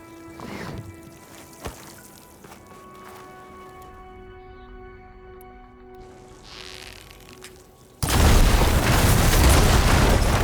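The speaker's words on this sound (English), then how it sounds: "Hitting those blaze barrels with fire ammo should do the trick." In a video game, blaze barrels hit with fire ammo go off in a sudden loud, broadband explosion after several seconds of quieter ambience and tonal hum, and the blast fills the final stretch.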